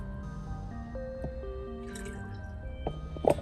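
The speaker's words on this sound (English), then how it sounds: "Now I'm going to pour it in here." Adam's Foam + Wash car wash liquid is poured into a container, giving a low gurgling fill with a rising pitch, quiet and close, then a few drips and a small splash near the end; no talking.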